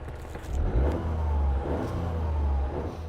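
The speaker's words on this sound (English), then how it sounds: "they take the best sound waves from the engine and then amplify them, and that's what you hear through the speakers" A Toyota GR Yaris engine revs up and holds, a deep throaty surge swelling after a quiet start and staying strong for a few seconds, heard close with no voices.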